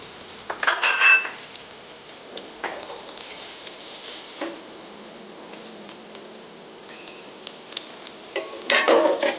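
Paneer thetcha is scooped onto a plate with metal utensils clinking and scraping against dishes in a few sharp bursts, fairly close, between quieter kitchen handling.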